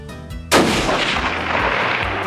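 A single loud gunshot cracks out sharply and alone, followed by a long rolling echo that slowly fades.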